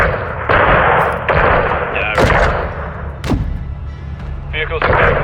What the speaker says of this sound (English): Seeing small arms fire from the gas station.